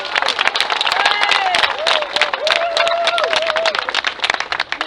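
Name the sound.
crowd applauding cyclist at trophy ceremony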